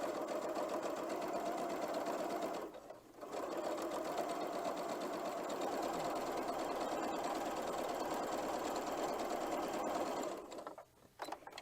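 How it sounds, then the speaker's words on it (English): A sewing machine runs steadily while stitching a quarter-inch seam on a scrappy quilt block. The whir is close and continuous, with one brief pause near the start and another near the end, and no talking. "So I'm simply just sewing down the seam here at a 1/4 inch seam allowance."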